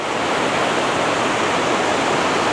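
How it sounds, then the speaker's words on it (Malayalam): Loud, rushing roar of falling water, dense and unbroken from start to finish. "വെള്ളം വീണോക്കി എന്ത് സ്പീഡിലാ വീണേ"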